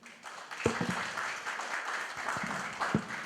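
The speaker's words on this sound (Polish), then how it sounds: "Wielkie brawa dla pani" At an Indian-themed evening in a community cultural center, the audience applauds a dancer from an oriental dance troupe, moderate, continuous clapping with a few sharper nearby claps standing out.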